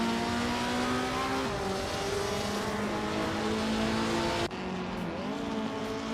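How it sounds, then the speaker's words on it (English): A 1966 Lotus Cortina Mark I racing car in a video game, engine droning loud and steady at high revs with shifting harmonic pitch, a brief gear-change dip near the end before climbing again. "Gina Jones is driving a 1966 Lotus Cortina Mark I Antiguo"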